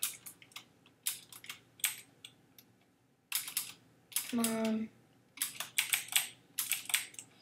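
A new computer keyboard clicks in irregular bursts of quick keystrokes during a video game session, close and fairly clear, with a short spoken exclamation in the middle.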